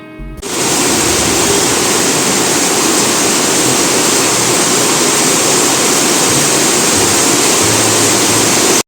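Monsoon floodwater surrounds a house, a loud, constant rushing roar that starts abruptly and then holds steady and unbroken for the rest of the stretch, with no voices.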